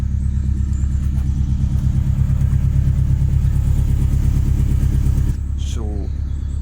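A Subaru WRX STI engine idles close by inside a garage with the door down, a deep, steady rumble, then cuts lower near the end as a brief squeal rises.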